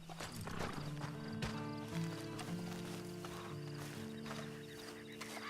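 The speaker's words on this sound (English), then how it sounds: "And you better get on this horse." Hooves of a horse clip-clop steadily nearby in the Red Dead Redemption Online video game, with a whinny breaking in and music and ambient game sound underneath.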